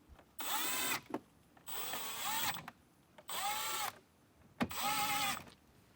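A power drill whirs in four bursts of about a second each as it backs out trim panel screws on a 2024 Jeep Wrangler, with short clicks and pauses between runs.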